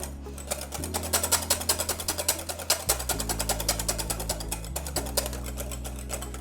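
An electric mixer whirs steadily while beating egg yolk and a thin stream of oil into mayonnaise, a continuous motor drone with a fast rattling pulse and slight pitch shifts, alone.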